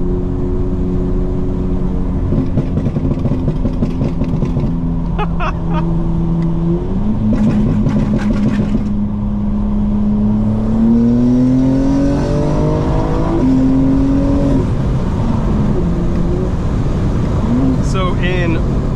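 A stage 2 tuned 2025 BMW M4 Competition xDrive accelerates hard at full boost, engine pitch climbing through several gears with brief shift breaks, loud from inside the cabin while someone talks over it.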